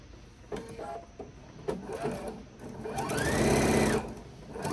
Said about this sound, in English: So let's go ahead and sew that around.